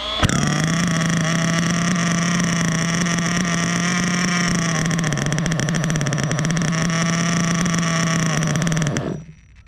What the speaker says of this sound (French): On va prendre son socket de démarrage et on va actionner.